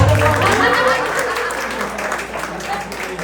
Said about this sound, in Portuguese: Cadê a salva de palmas?